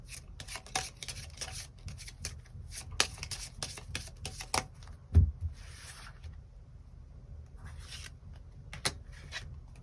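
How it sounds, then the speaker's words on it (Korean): Tarot cards are shuffled and drawn by hand, giving soft repeated riffling and rubbing close up, with scattered card snaps and a brief thump, quiet and without talk. "9번 분들 추가 카드로 일별로 월요일부터 일요일까지 어떤 일들이 있을지 추가 카드 뽑아보도록 하겠습니다"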